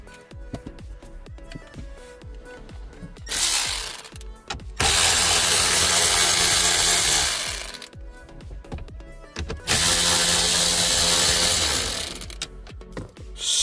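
A power tool or ratchet works 8mm Phillips screws out of the radio trim panel of a Hyundai Sonata, with two long loud whirring bursts between stretches of close, irregular clicking and rattling.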